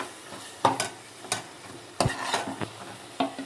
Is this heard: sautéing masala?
yes